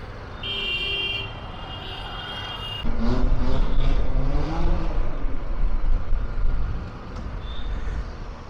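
A BMW G 310 GS motorbike engine idles, then revs up and pulls away close by from parking, its rumble rising and staying steady before easing slightly, with no talking.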